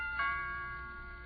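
A doorbell gives a single soft chime that rings out and slowly fades over about a second, quiet and indoors.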